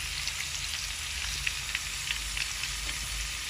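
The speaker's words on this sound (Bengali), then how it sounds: "পেঁয়াজ দেওয়া হয়েছে তেলের মধ্যে" Onion sizzling in hot oil in a pan, being cooked for a pumpkin dish, a steady broadband crackle with scattered pops throughout, close and continuous, no voices.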